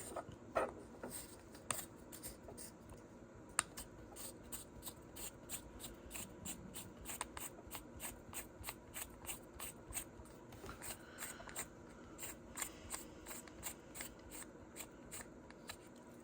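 A bolt-on tool is screwed by hand into a fuel system part of a Toyota AE86, giving a quiet, rapid series of ratcheting, scraping clicks that repeat steadily throughout.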